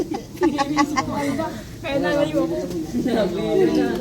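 Birds coo at Manila Zoo, low pigeon-like calls that repeat in several phrases close by, with people talking nearby throughout.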